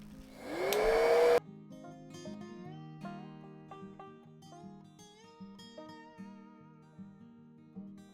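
A hair dryer blows on wet paint for just over a second, a loud, close rushing whoosh that cuts off abruptly and gives way to soft music.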